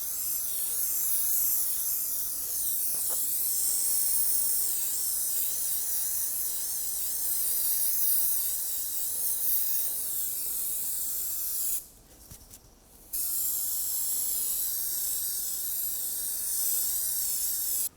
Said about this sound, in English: spray up a bit of our carpet